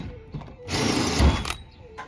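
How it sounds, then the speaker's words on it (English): A power drill fitted with a hole cutter whirs loudly for under a second as it bores into the roof panel of a Ford Transit van, starting and stopping abruptly with quieter handling noise around it. "we use the drill to mark up the corners"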